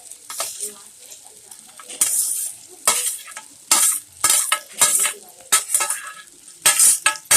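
Fried bitter gourd being stirred into an onion and tomato masala for karela sabzi, with repeated loud scraping, stirring strokes and clinks of a spoon against the pan over a steady sizzle, no talking.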